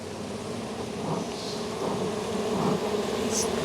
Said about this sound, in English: lots of bees down here.